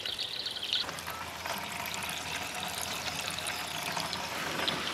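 Fuel pours steadily from the tank of a Husqvarna YTH150 ride-on lawn tractor into a 10-litre can, a continuous close trickle and splash with no talk.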